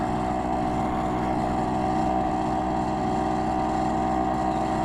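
A BSA Bantam D3 motorcycle ridden gently on a damp road on thin tyres: a steady, continuous small-engine drone with a buzzing exhaust note, held at an even pace throughout.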